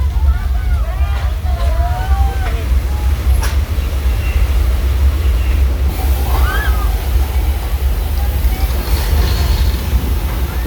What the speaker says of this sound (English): So everyone just watch out for the flash flood, okay?